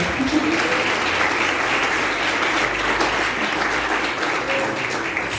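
Church congregation applauding during a worship service in praise of God for the pastor, a dense, steady wash of many hands clapping that holds at full strength throughout.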